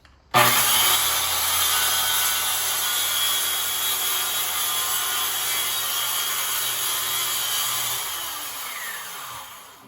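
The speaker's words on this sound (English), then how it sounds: "you want to make sure the platform is against the guide, the platform of the saw. So here we go." A circular saw cuts through a wooden sub-floor, whining at a steady, loud pitch for about eight seconds after a sharp start, then spinning down at the end.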